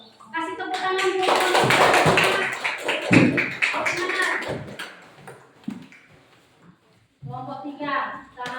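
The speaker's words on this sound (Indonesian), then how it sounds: "Kasih tepuk tangan dulu." Classroom applause for group 3, a burst of many hands clapping that fades after a few seconds, mixed with a teacher and pupils talking over and after it.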